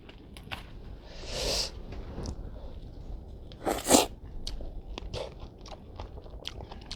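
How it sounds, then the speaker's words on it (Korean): A large strawberry bitten and chewed close up: a loud crisp bite near the middle and another near the start, then wet crunchy chewing that comes and goes. "이 딸기를 한번 요 놈을 요 큰 놈을 한번 먹어보겠습니다."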